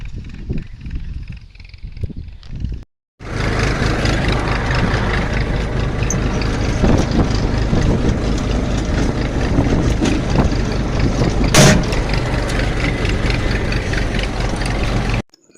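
A Massey Ferguson 1035 tractor engine runs at a steady, loud, close drone after a brief quieter opening of about three seconds.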